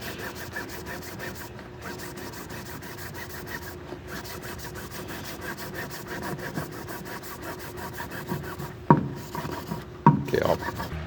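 An oil filter is cut open with a cutting tool that is not a hacksaw, producing a faint, steady scraping rasp up close, with a couple of sharper, louder scrapes near the end.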